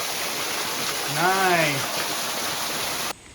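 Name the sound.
rushing waterfall in Maryland stream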